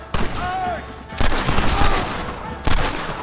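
A shootout in Red Dead Redemption, with loud, rapid overlapping gunshots cracking in bursts, heavy volleys at the start, middle and end, mixed with shouted voices and game sound.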